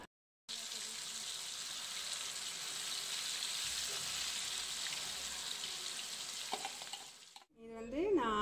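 Steady, close sizzling of food frying in oil, a continuous crackling hiss that cuts off near the end before a brief clatter.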